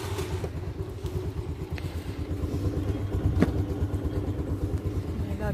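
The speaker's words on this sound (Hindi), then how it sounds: "स्कूटरी खड़ी है जी मेरी तैयार, तो आप चलते हाँ। मैंने इनू स्टार्ट कर दिनी गर्म हो जाएगी" A scooter idles after being started to warm up on a Punjab morning, its engine a low, uneven putter with light clatter and a brief rise partway through, fairly close and moderately loud.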